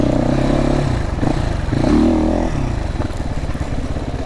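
A GPX two-stroke motorcycle engine runs steadily and loudly up close, with a throbbing mid-low drone and slight shifts in pitch. No one speaks.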